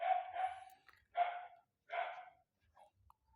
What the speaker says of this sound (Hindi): कुत्ता भौंक रहे हैं भैया,